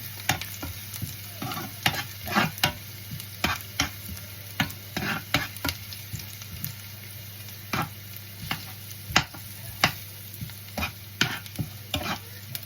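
Garlic sizzles in a pan under brisk, repeated stirring, with loud, regular scrapes and clacks of a utensil over a steady frying hiss and a constant low hum, no voices.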